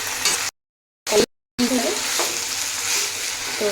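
Chicken frying in oil in a pan, a steady close sizzle running through the clip, cut by two short gaps of near silence early on.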